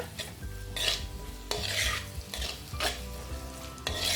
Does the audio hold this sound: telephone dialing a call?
no